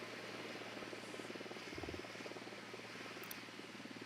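A surveillance drone in the Ghost Recon Wildlands video game gives off a continuous low, rapid propeller buzz with a fluttering pulse. The hum holds steady and fairly quiet throughout.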